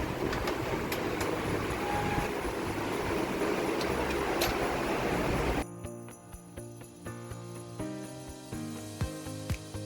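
A moving train, first heard as loud broadband rushing noise past an open window. It then drops to a quieter rhythmic clatter of wheels over rail joints with steady mechanical hum.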